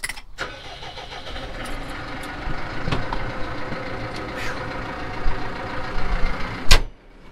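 New Holland T6.155 tractor engine starting up with a cranking burst, then running at a steady idle close by, with a few clunks and a sharp transient near the end.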